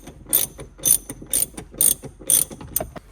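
Ratchet wrench loosening a bolt on a BMW V10 supercar, a close, loud series of about six rapid clicking bursts with short pauses between strokes.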